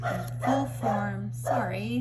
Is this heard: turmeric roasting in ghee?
no